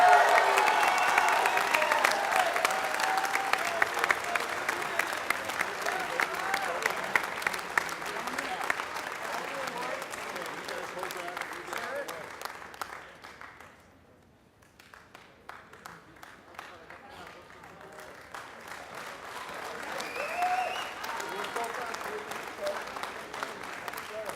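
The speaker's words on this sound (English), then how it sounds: "give a big round of applause for everybody who participated this evening" An audience at an evening speech competition applauds a co-winner with sustained clapping. The clapping fades briefly partway through, then builds again, and a voice speaks over part of it.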